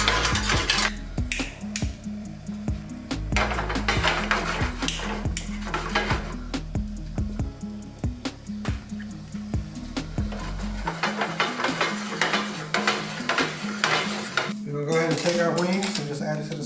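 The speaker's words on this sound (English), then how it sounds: "you just want to take a shot and add it to your pan" A shot of DeLeon tequila goes into a hot pan of chili lime chicken wings, bringing clattering pan and utensil knocks and a sizzle, with music playing under it throughout.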